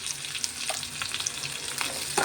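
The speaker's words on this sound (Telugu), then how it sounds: "ఇవి కొంచెం బాగా ఫ్రై అయిన తర్వాత పక్క తీసేసుకొని టమాటాలు అయితే ఫ్రై చేసుకుందాం" Brinjal frying in a pan for a pounded chutney gives a steady, close sizzle with soft crackles and occasional stirring scrapes throughout, and no voices.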